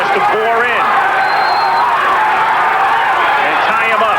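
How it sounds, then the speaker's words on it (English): Boxing arena crowd chanting for Evander Holyfield during his fight with Henry Tillman, a loud roaring mass of voices with rhythmic chant swells, heard under a commentator's close voice. "Crowd chanting Holyfield as Tillman tries to bore in"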